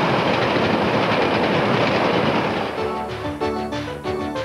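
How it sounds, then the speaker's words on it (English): NSWGR 3813 steam locomotive rushing past at speed with the Melbourne Express, a loud, dense roar of train and carriages close by, then rhythmic clickety-clack of wheels over rail joints as the consist passes. "a rushing Melbourne Express in the charge of a charging 3813"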